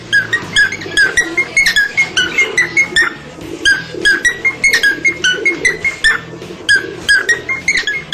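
A pet parrot whistles loudly and close in a repeated melodic pattern that mimics an Apple phone ringtone. The short chirpy phrases loop steadily over a low background murmur.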